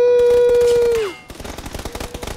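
Video game gunfire crackles in rapid bursts after a falling electronic tone, loud and close, with no talk over it.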